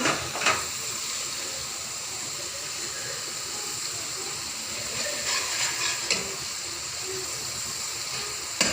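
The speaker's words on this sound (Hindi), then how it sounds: "अदरक और लहसुन का पेस्ट। ठीक है, जिसको मैं ब्राउन करती हूँ" Ginger and garlic paste frying in a pan until browned, giving a steady hissing sizzle throughout with a few faint clinks over it.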